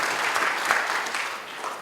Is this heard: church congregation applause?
yes